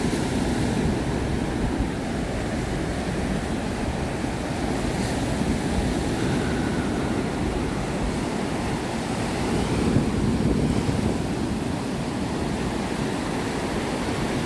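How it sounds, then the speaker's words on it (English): Ocean waves wash onto the Gulf beach at Anna Maria Island, a loud, steady roar of surf with gentle swells and a touch of wind noise, no voices. "The wave sound is beautiful."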